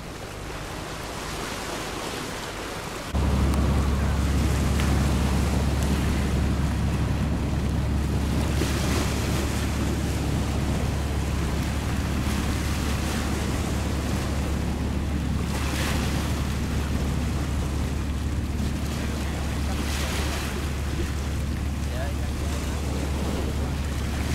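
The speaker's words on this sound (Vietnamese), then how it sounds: "cao tốc hiện giờ đang đưa những vị khách ra đảo nha" High-speed passenger boat carrying tourists out to an island, running hard at sea: a loud, steady low engine drone with waves and wind rushing over the microphone, continuous and close.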